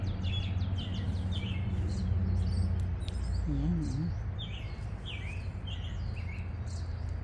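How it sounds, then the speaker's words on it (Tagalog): Birds chirp and tweet in a backyard rose garden, faint scattered calls over a steady low background hum, with a brief voice. "yung mga ibon naguhunihan"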